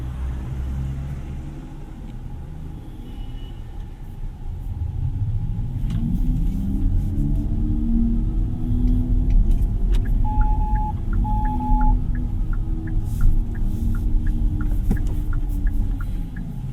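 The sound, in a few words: Hyundai IONIQ 6 electric car driving, spaceship-like hum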